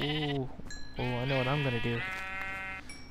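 Sheep in the Minecraft video game give several loud, close, wavering bleats, and someone talks over them.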